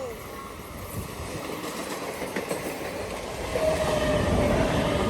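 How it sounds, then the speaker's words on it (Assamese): Low rumble and clatter of a train passing nearby at a railway gate in Guwahati, growing louder toward the end, with a faint distant horn-like tone. "ট্ৰেইন আহি আছে"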